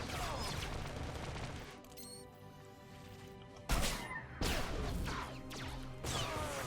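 Suppressive blaster fire in Star Wars: The Old Republic rattles as bursts of rapid shots and crashing impacts, loud then dropping away before new volleys hit, with faint game sounds between.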